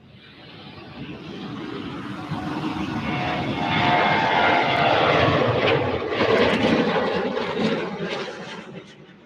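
A Southwest airliner takes off at Cleveland Hopkins airport, its engine roar building steadily into a loud, broad rush that stays strong to the end.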